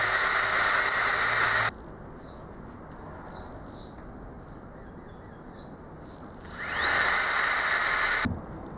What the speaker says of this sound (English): I'll drill this for a 10mm